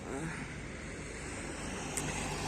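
Steady interior rumble of a car driving along a road in Portugal, a low continuous engine and road drone with faint wind noise, even and unbroken throughout.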